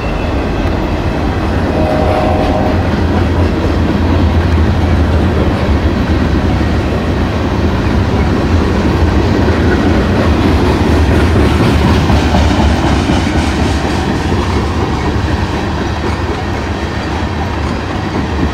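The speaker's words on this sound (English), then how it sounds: "A DODX caboose." A freight train with a DODX caboose thunders past at a trackside spot in Bonner Springs, Kansas: loud, close and continuous, with clickety-clack wheel rhythm over a deep rumble and no talking.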